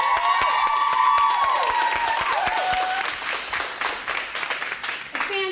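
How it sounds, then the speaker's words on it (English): A women's boot camp workout class claps together in a round of applause. The clapping stays steady and close, with an instructor's voice and backing music running throughout. "Round of applause for how much you love today's workout."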